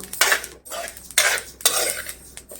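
Sesame seeds for tilgul ladu roast in a pan, giving sharp crackling and popping bursts with scraping stirs, three loud clusters separated by brief pauses.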